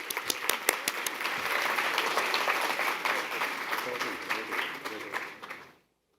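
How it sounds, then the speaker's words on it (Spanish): An audience at a technical talk on seismic protection dampers applauds to welcome the speaker, with crisp claps swelling into a full, fairly close round that tapers and stops abruptly near the end. "le damos la bienvenida al doctor Luis Bozzo con un fuerte aplauso"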